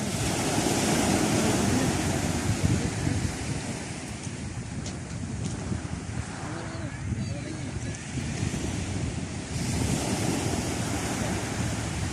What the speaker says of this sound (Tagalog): Ayan po yung dagat po natin ngayon.